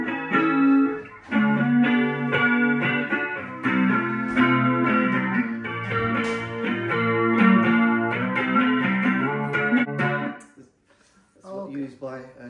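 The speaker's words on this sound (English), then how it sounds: "This is a vibrato." An electric guitar run through an effects unit with vibrato plays sustained, wavering chords for about ten seconds, fairly loud and close, then stops and a few softer notes follow.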